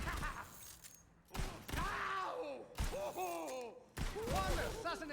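Gunfire from the video game Borderlands 3 arrives in three short, quiet bursts of rapid shots, with a voice talking between and over them.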